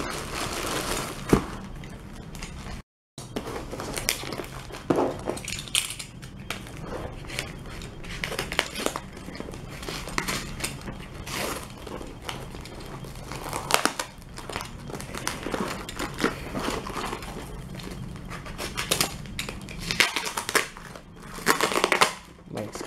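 Crinkling and crushing of packaging as a hard disk package is unboxed, steady rustling and crackling close to the mic throughout, with intermittent talking over it.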